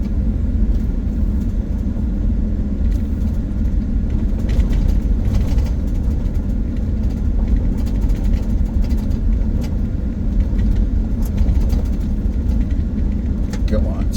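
A truck creeps in first gear down a steep mountain loop road in the Bison Range near Missoula, Montana, its engine giving a steady low rumble throughout with light talk over it.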